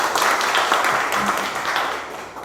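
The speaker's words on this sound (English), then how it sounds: "let's give him a big round of applause for the work that he is doing." Audience applause at an entrepreneurship event in Pune, a steady wash of clapping from a crowd that holds at a fairly even level for the whole stretch, with no one speaking over it.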